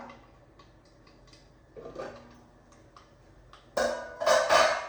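Sparse small pops and ticks of mustard seeds bursting in hot oil, building into louder crackling bursts near the end.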